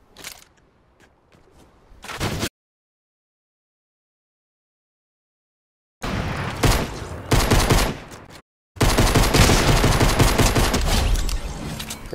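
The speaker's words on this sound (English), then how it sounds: "I'll go use the laser gun now" A laser gun firing in a video game, with loud, dense bursts of rapid shots in two stretches separated by several seconds of complete silence, plus a fainter patch at the start.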